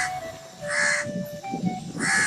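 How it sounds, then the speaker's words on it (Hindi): A crow caws in a dense forest, giving about three loud, harsh, close calls separated by short pauses. "एक घने जंगल में एक अनाथ कौवा रहा करता था।"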